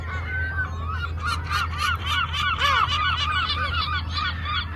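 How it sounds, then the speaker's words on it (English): Seagulls call repeatedly on Inchcolm Island during nesting season, a busy chorus of overlapping cries at moderate distance over a steady low rumble that sounds like wind or a boat engine. "there's seagulls everywhere, and it must be the nesting period just now"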